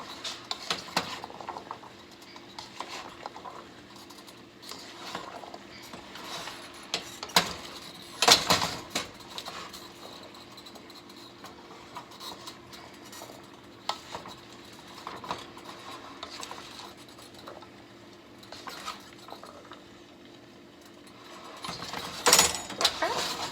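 Chicken stir fry being stirred and tossed with basil and seasoned salt, giving steady clattering scrapes and clinks of utensil against pan, with a few sharper knocks and a louder burst near the end.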